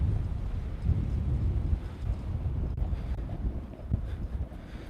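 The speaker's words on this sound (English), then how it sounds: "it still is a little bit windy, but not as bad" Outdoor wind blows in a steady low rumble, buffeting the microphone with gusts that rise and fall throughout, and no one speaks.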